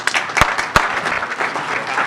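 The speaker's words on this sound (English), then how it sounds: "Everybody, round of applause for Eric." An audience applauds a speaker taking the stage at an mHUB event, with dense clapping throughout and a few sharp, louder claps standing out near the start.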